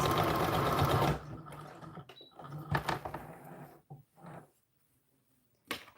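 Sewing machine stitching in reverse while sewing an American Girl doll dress bodice: a loud dense run of rapid stitching that stops after about a second, followed by scattered fabric handling and brief clicks.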